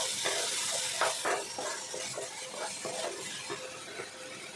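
Spices being stirred in a hot cooking pan with coriander powder and salt, soft scraping strokes over a faint steady sizzle, close and fairly quiet.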